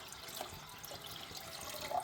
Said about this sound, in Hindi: में ये फ़िल्टर किया हुआ पानी ये जाएगा